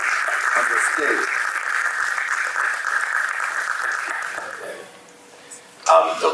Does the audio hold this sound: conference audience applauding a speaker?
yes